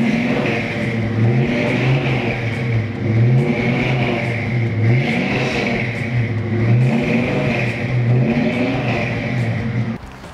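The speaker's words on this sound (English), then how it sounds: "Check out this sound, a little 289." A Ford 289 V8 engine in a 1965 Ford Mustang GT Fastback revs repeatedly in rising and falling surges, loud and close, with a deep rumbling tone and no voices.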